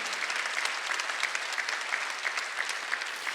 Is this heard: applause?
yes